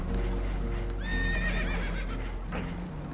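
Spooked horses in the video game Red Dead Redemption 2 let out a shrill, wavering whinny midway through, over a low rumbling backdrop with scattered hoof clatter and water noise.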